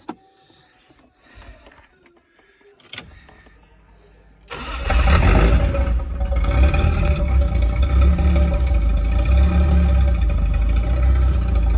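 A Toyota Aristo with a swapped 1JZ-GTE engine starts for the first time. A brief crank leads to a loud, steady idle that runs on close by after some quiet handling sounds.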